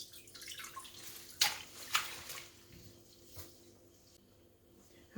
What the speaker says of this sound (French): je vais aller les rincer dans de l'eau propre